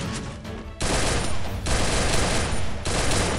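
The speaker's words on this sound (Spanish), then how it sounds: "escucho varios disparos con silenciador" Suppressed gunfire in a Free Fire-style shooter game, dense bursts of rapid muffled shots in several loud stretches separated by brief gaps.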